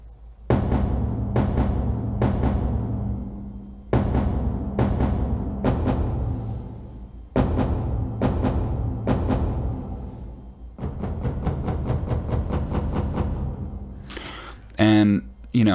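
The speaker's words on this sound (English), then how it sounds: "I found this epic war drum VST" Heavy, booming war drum hits from a virtual instrument, layered beneath a mixed rock track's drums; grouped strikes fall in steady rhythmic clusters, then a faster roll of hits near the end, loud and full throughout.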